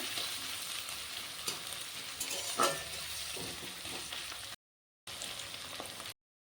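Onion lightly frying in a pan gives a steady, even sizzle with occasional soft stirring scrapes, cut off by two short gaps of silence.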